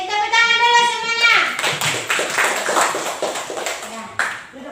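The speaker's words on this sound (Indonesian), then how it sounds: "tepuk tangan dulu semuanya" Classroom of children clapping together at a teacher's request, a dense burst of many small hands after a sung or spoken tone, loud and close, with kids' voices mixed in.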